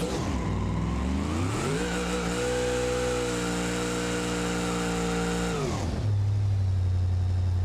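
A simulated car engine in the BeamNG.Drive driving game holds a loud, steady high rev for several seconds, then drops sharply to a lower, rougher drone near the end, close and alone without talk.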